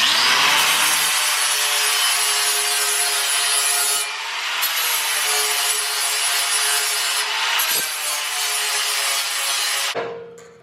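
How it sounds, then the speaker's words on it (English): Continuous, loud, close grinding of metal on a Silverado rocker panel replacement, a harsh sustained roar that shifts slightly in pitch before cutting off near the end. "I'm just going to go ahead, grind all these really quick."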